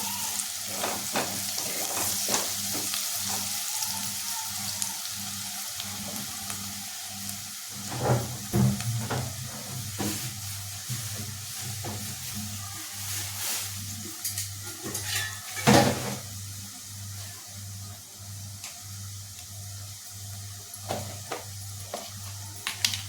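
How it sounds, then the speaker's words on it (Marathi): Soybean curry frying in a pan as garam masala is stirred in, a steady close sizzle broken by scraping spoon strokes and occasional clinks against the pot. "आता आपण यात गरम मसाला टाकायचा. छानपैकी मिक्स करून घ्यायचं."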